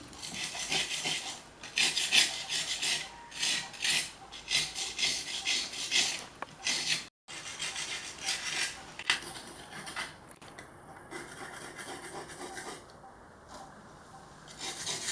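Rasping scrapes of clay being worked loose from the seal of a Siddha medicine crucible, repeated strokes in uneven bursts, close and moderately loud, with a short silent break and quieter scraping later.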